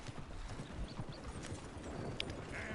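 Horses gallop in a video game, a dense run of clip-clopping hooves at close range with a faint neigh mixed in, steady and busy throughout.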